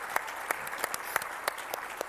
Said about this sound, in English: Let's give one last round of applause to our Creators winners.